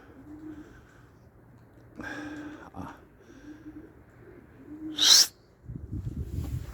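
Grey and white pigeons coo softly in a loft, low repeated calls with short pauses between them, joined by a brief sharper sound and some rustling toward the end.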